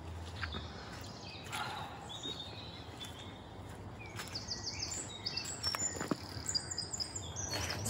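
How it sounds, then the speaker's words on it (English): A song thrush sings loud, repeated phrases of bright chirps over a constant outdoor background hum, with several other birds calling faintly farther off. "That's a song thrush. They sound lovely. They're very loud."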